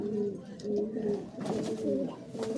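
Pigeons coo repeatedly in a loft of long-flying performance birds, soft throaty calls rising and falling in steady succession, fairly close, with some handling noise.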